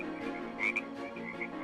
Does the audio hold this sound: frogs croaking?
yes